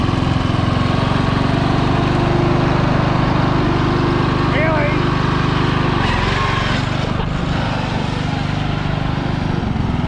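A racing lawnmower's engine runs steadily throughout, a loud close droning hum with strong low rumble, while people talk over it.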